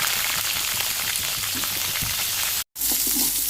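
Chopped pirandai (veldt grape) frying in hot oil for thuvaiyal, a dense, steady sizzle that continues throughout with one brief dropout near the end.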